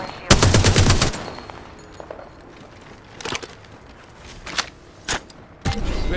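Video game gunfire opens with a loud burst of rapid automatic shots, followed by scattered sharper single shots and bursts at varying distances over quieter in-game background sound.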